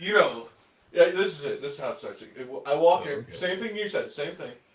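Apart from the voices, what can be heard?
No everyday noise stands out behind the speech.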